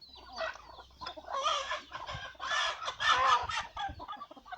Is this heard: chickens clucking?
yes